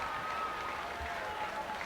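A soccer stadium crowd keeps up steady, broad cheering and applause after a late equalizer ties a Saint Louis FC versus Louisville City FC match at 1-1.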